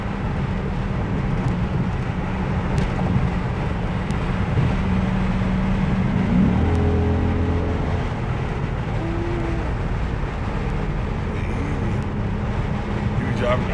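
A Chrysler 300 pulls up to speed on the road, heard from inside as a steady broad rumble of engine and road noise with a brief rising engine note in the middle, continuous and moderately loud.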